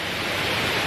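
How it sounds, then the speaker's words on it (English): A waterfall at a scenic park near Pattaya, a steady broadband rush of falling water, close and continuous with no voices. "Look at that for a waterfall."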